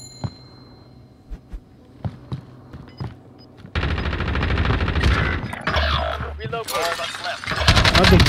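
Gunfire rattles in the Warzone battle royale shooter, beginning as a few scattered distant shots over quiet ambience, then erupting into loud, sustained close-range bursts and heavy firing, with players talking over the action.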